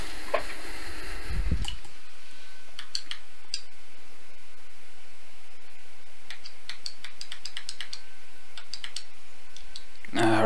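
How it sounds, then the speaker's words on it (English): Computer keyboard keys clicking in a quick irregular patter while Metal Gear Solid is played, close and fairly clear, opening with a brief louder low burst and ending on another short noise. "Keyboard for this game."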